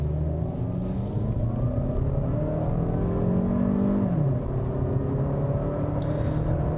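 A Toyota RAV4 with a 6-speed automatic accelerates, its engine note climbing steadily and close, with a clear gear change as the pitch drops about midway before rising again.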